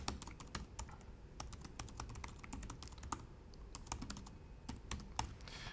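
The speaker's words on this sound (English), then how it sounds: "Then I can go in and I can type in some text." Quick, irregular keystrokes tap away on a computer keyboard, typing a message in bursts with short pauses between clusters, close and fairly quiet with no talking.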